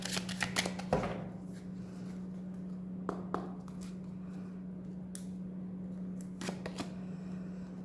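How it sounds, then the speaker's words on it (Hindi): Tarot cards handled for a Hindi love reading: a quick riffling shuffle at the start, then a few crisp snaps and slides as single cards are drawn, close and clear over a low steady hum. "कुछ कार्ड हम यहाँ से लेते हैं।"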